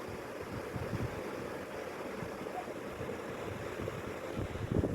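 Ocean waves and the churning wake of the cruise ship Carnival Splendor wash steadily beneath the aft deck, a soft continuous rushing mixed with wind buffeting the microphone, fairly quiet and without speech.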